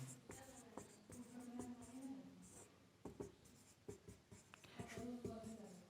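Pencil writing on paper while working a Class 10 math problem, soft close scratching strokes and taps in short bursts, with someone speaking throughout.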